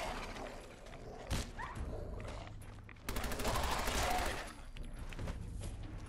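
Gunfire in Fallout 4, a few separate shots early on followed by a rapid burst of fire near the middle, fairly close and moderately loud against a quieter ambient game background.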